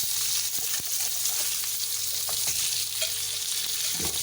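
Fish frying in a pan over a high flame gives a steady, close sizzle that holds for the whole stretch, with a few faint clicks and taps scattered through it.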